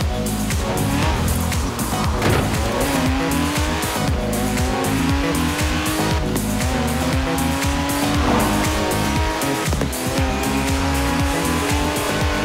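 A car in the racing game Forza Horizon 4 drives hard with a loud, constant engine roar, rising and falling revs and long stretches of screeching tire squeal, with no other sounds over it.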